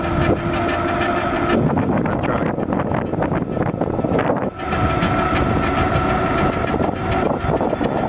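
An ultracapacitor electric scooter rides uphill with a loud, steady rushing roar of motor whine, road noise and wind buffeting the microphone, briefly dipping midway before surging back.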